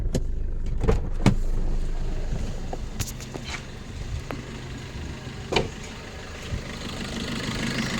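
The 2016 Maruti S-Cross diesel engine idles with a low, steady hum, fairly quiet and close, broken by a few brief clicks and knocks.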